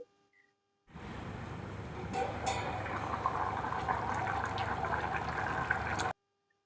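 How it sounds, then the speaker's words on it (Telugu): Vegetable pulao with added water simmers in a covered pot, giving a steady, close bubbling and hissing boil that starts abruptly and runs evenly for about five seconds before cutting off, with no talking. "నీళ్లు పోసుకున్న తర్వాత ఒకసారి మొత్తంగా కలుపుకొని మూత పెట్టి ఉడకనివ్వాలి."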